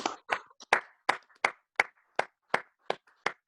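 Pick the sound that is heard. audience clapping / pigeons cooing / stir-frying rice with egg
audience clapping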